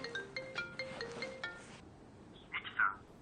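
A phone rings late at night in a dramatized scene: a faint, repeated electronic ringtone of short tonal pulses that stops after under two seconds, followed by a brief higher chirp.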